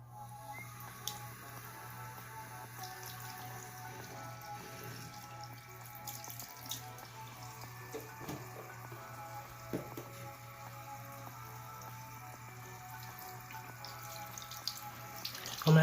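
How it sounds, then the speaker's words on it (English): Tap water runs steadily into a sink while hatchling bearded dragons are rinsed underneath it, with a constant close splashing hiss and a low hum beneath it, and no talking. "For now, I'm gonna rinse these guys off."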